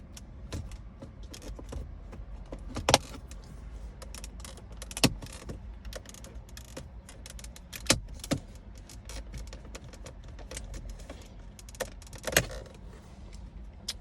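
Plastic side trim clips being pried off inside an Acura TLX, heard as sharp scattered clicks and snaps over a low rustling background, with a few louder pops spaced several seconds apart.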